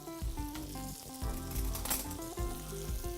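Apples with sugar sizzle steadily in a hot pan as they caramelize, a continuous close frying crackle with music playing over it.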